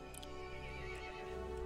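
A horse creature in the video game Resident Evil Village lets out a single short, fairly quiet whinny with a faint hoof clip-clop, alone without speech.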